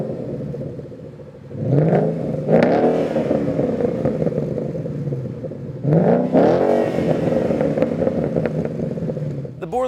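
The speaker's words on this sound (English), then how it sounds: "I went with the Borla Touring Axleback exhaust system" A Ford Mustang GT fitted with a Borla Touring axle-back exhaust revs twice in strong, throaty bursts, each climbing and falling back to a burbling idle, close and fairly loud.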